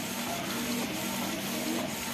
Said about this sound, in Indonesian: Untuk printernya kita menggunakan printer Canon